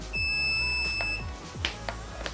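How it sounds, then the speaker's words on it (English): An OWAYS vibration slimming belt lets out a short, bright electronic beep as it is plugged in, close and alone in a quiet room, followed by a few soft clicks. "you guys can hear that little beep."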